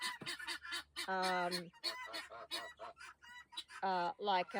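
Geese honk repeatedly nearby in a noisy chorus, loud nasal calls overlapping one another with brief gaps between bursts.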